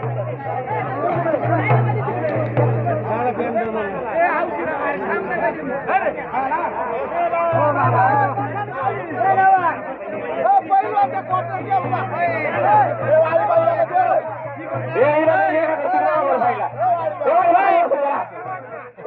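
A packed crowd chatters and murmurs steadily around a kushti wrestling match, many overlapping voices forming a continuous loud babble throughout.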